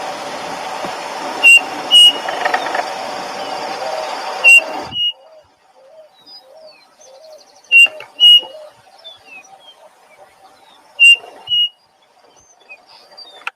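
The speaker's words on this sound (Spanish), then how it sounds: "Queríamos escuchar un poco de pajaritos, de frescura que nos traen los bichos" Birds chirp and whistle in short, sharp, repeated calls, some loud and near, others faint, first over a steady background hiss and then in near quiet.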